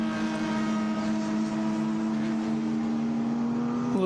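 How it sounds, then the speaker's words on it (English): A Base Saver Technology race car rolls into the winner's circle at Watkins Glen during an SVRA and IGT vintage racing weekend, engine droning at a steady low idle-like hum, fairly faint, with a brief shift near the end. "Base Saver Technology cars pulling in."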